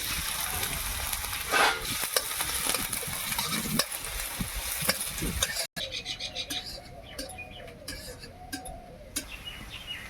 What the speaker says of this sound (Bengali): একটা মাজার সাইজে পেঁয়াজ কেটে নিয়েছি দিয়ে দিচ্ছি